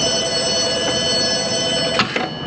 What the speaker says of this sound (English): Phone's ringing. Your phone, it's ringing.